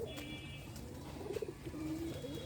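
Pigeons coo in low, soft repeated bursts, a few close calls standing out over steady background noise, with faint chirps mixed in.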